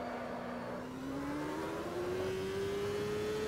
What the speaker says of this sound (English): I freaking love the sound of these cars.